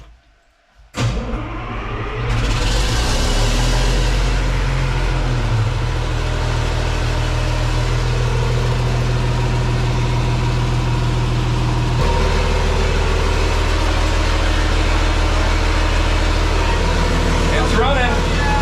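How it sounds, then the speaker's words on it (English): Generator engine on an electric truck build cranks and catches, then runs at a loud, steady low drone that steps up partway through, close to the microphone. "All right, starting her up."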